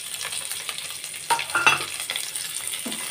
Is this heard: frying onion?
yes